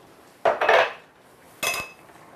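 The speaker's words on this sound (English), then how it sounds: "We're going to give it a stir," A spoon knocks and scrapes through a pot of beef stew with potato wedges, halved mushrooms and a bay leaf, making two short clattering bursts separated by quiet.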